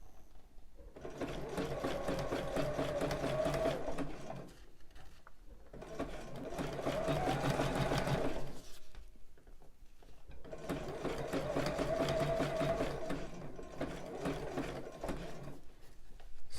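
A sewing machine stitching elastic onto bra fabric, running in three steady bursts of several seconds each with brief pauses between, close and alone.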